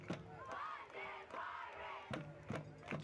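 A big crowd in the stands at a high school football game (GNST London vs TM) murmurs steadily, with a few sharper bursts of shouting and thumps rising above the general din.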